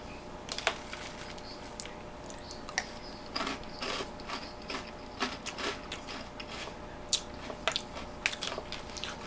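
Fruity loop-style cereal is eaten with a spoon close up, with irregular crunchy bites, chewing and spoon clinks scattered across the whole stretch, and no talking.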